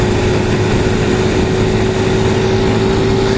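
A 2015 Suzuki TU250X single-cylinder motorcycle engine runs loud and close with a steady, even drone and constant rumble under rushing noise, showing little change in pitch over a few seconds.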